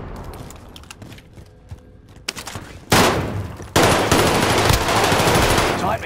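Pistol shots in a first-person shooter game, a few sharp bursts of gunfire rising loud after a quieter stretch, with dense crackling game noise filling the rest.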